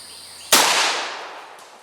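Single sharp gunshot from a Roaring 20s mobster-favorite gun, fired at a bottle outdoors, a loud crack that decays over about a second and a half.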